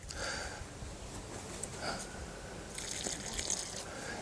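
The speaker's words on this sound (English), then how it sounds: "I always like to put some water into the holes that I've just dibbed." Water is poured into freshly dibbed planting holes in garden soil, giving faint trickling and dripping with brief splashy bursts, close and quiet, no talk.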